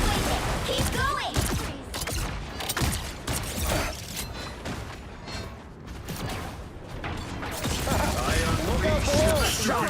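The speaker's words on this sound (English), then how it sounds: "Nobody can hang with the pulse cannon." Rapid pulse cannon gunfire in the Marvel Rivals hero shooter keeps up a dense, loud stream of bursts and mechanical clatter from start to finish.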